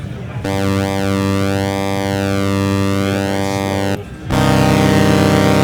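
A thin, buzzy tone from a NINA 12-voice analog polysynth holds steady while its timbre sweeps slowly up and down, then briefly cuts out and returns with a brighter edge.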